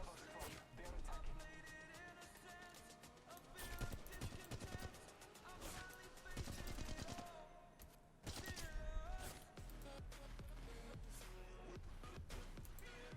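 Gunfire in the shooter game Apex Legends Mobile, played on an emulator, comes as dense bursts of rapid shots and impacts over busy game sound, with players talking throughout.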